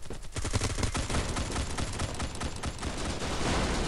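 Shotgun gunfire rattles in the online shooter Bullet Force, with rapid, loud, close bursts of shots tumbling over one another in a dense volley that runs for a few seconds.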